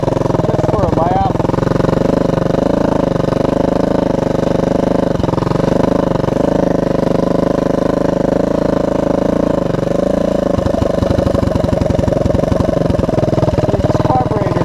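A Honda ATC200M ATV engine with a bad carburetor runs steadily and close by, a rough, uneven drone with a few louder bursts partway through. Voices can be heard over the engine.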